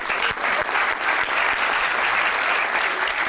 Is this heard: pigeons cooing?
no